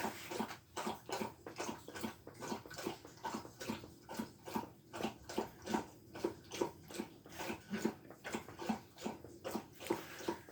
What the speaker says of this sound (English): Thirsty dog.